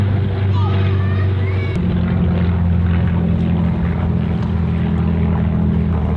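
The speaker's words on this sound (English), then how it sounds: "you can tell by the distinctive sort of deep gargling noise of the engine" A Spitfire's deep, gargling piston engine drones loudly and steadily overhead near the Isle of Wight coast, a low throbbing rumble that carries through the whole stretch with faint wind noise.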